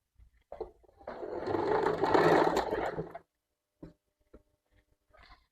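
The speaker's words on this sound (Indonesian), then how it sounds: "udah dilipat seperti ini kemudian dijahit." A sewing machine runs in one steady burst of about two seconds, stitching along a folded fabric hem. Brief handling clicks come before and after, and it is otherwise quiet.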